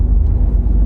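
Hyundai Ioniq hybrid car driving through twisty bends, heard as a steady low rumble of engine and road noise close by, continuous throughout without talk.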